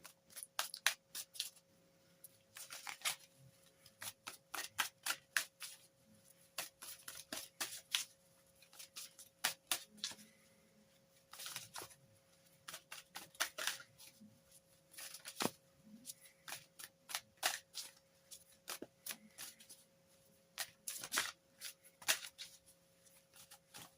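Forest of Enchantment tarot cards are shuffled by hand in a quiet room, giving repeated crisp riffling bursts in uneven quick runs, close and fairly soft, with only brief pauses between them.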